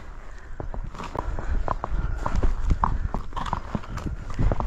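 Hooves of a running horse clip-clop in quick, uneven beats close by, a steady patter of sharp knocks over dirt with a faint breathy snort or two.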